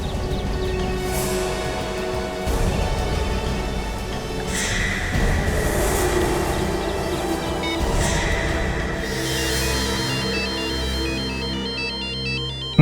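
A phone ringtone plays steadily for several seconds, a melodic repeating tune over a dense, full background with low thumps.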